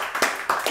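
Brief applause for Marshanda on a talk-show set, a few sharp claps close by over a short moment.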